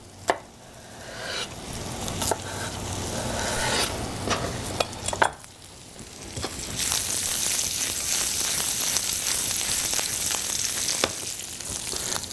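Halved green onions go into hot butter in a pan. After some stirring and clatter, a loud, steady hiss of sizzling swells up and holds close.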